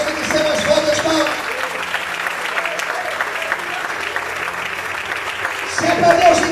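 A church congregation claps together in a sustained wave of applause that swells again near the end, while a pastor's voice carries over the crowd.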